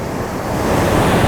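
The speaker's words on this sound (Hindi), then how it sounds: "समुद्र और उसकी लहरें ये अपने उफान पर है" Rough, swollen sea surf breaking on Calangute beach in Goa ahead of rain, a continuous loud roar of crashing waves with wind buffeting the microphone, building slightly over a short stretch with no voices.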